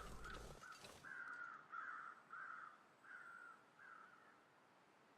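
Crows caw repeatedly in a wintry The Long Dark game world, gathered over a wolf carcass: a run of about six hoarse calls at steady intervals, moderately distant and alone after a brief low rumble at the start.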